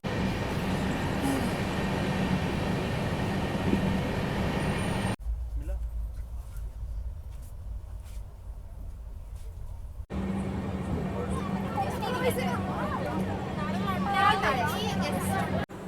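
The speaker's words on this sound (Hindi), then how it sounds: "हमारी ट्रेन अभी अपने सेकंड स्टॉप पे पहुंच चुकी है, जो कि तुमकुर" A long-distance train from Bangalore to Shirdi pulls into Tumkur station. A heavy rolling rumble fades to a quieter stretch, then returns with rail noise and a murmur of passenger chatter in the background.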